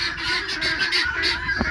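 Ducks kept in a farm pen fenced with old corrugated metal give off a steady outdoor bird chatter with a few sharper calls, moderately close and continuous.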